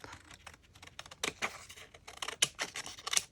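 A paper shopping receipt being cut at the top with scissors, a quick series of close, crisp snips and rustles that grow louder and denser toward the end.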